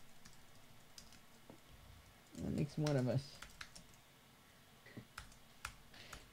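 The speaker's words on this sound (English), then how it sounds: "You're banging away on the keyboard." Soft, scattered clicks of typing on a computer keyboard tap on in an irregular rhythm, faint and close, with a short burst of speech in the middle.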